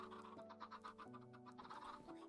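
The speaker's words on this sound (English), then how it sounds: "And here's maybe some more chickens." Chickens in the Minecraft Pixelmon video game, clucking faintly in a quick run of short repeated calls with no talk over them.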